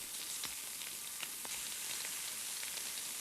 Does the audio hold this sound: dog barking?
no